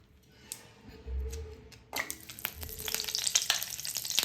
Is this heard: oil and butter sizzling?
yes